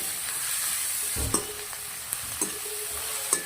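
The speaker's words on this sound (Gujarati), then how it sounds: "અડધી ચમચી હળદર નાખું છું અને સરસ મિક્સ કરી દઈશું." Turmeric is stirred into tomatoes and cauliflower in a pan, giving a soft, continuous sizzle broken by a few quiet scrapes and taps of a spoon against the pan.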